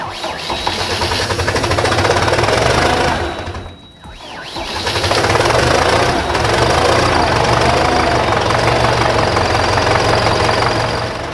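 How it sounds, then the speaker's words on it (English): A Belarusian MTZ-82 tractor diesel engine runs after a cold start at minus 16 degrees Celsius, a loud steady knocking idle with a brief dip midway before the rough, even chugging resumes. "At minus 16 degrees Celsius, the MTZ-82's diesel engine faces thickened oil, slower cranking, and glow plug challenges."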